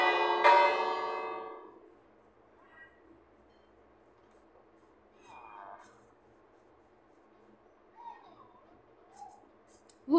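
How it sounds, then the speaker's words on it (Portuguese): A single Minecraft bell rings out loud and close, its tone fading over a couple of seconds into near silence with faint small sounds. "Tenta tocar esse sino."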